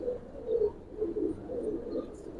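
Giribaz pigeons in a loft give soft, continuous low cooing in overlapping bursts, close and steady, with faint chirps behind and no voices.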